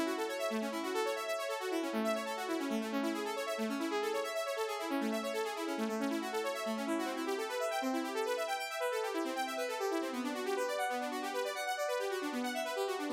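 Synth string chords from the free OB-Xd plugin rise and fall in quick arpeggiated patterns, a continuous, even flow of bright notes with no voices.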